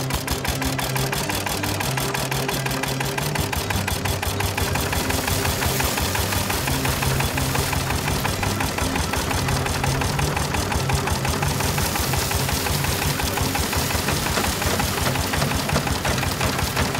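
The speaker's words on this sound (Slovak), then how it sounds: "Toto je tzv. Stabilák, ľudovo povedané stabilák stroj." An old stationary engine used for threshing runs steadily close by, its rapid, even mechanical chugging and knocking continuing without a break and with no talk over it.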